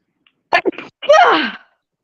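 A single sharp sneeze, loud and close, with a short intake burst before the explosive release; no talk over it.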